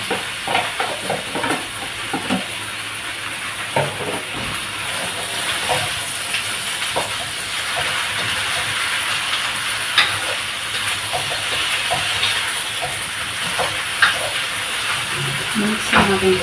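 Pork meat hits a hot pan and sizzles with a steady, bright hiss, punctuated by occasional clinks and stirring knocks.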